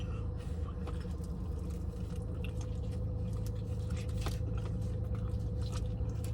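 Someone chews and bites into a slice of pepperoni pizza close to the mic, with soft wet squishing and crunching bites over a steady low background hum.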